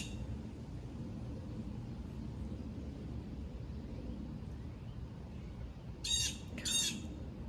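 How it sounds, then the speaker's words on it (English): A bird squawks outdoors, giving two sharp, loud squawks close together near the end after a long stretch of steady, low outdoor ambience. "This bird is driving me nuts."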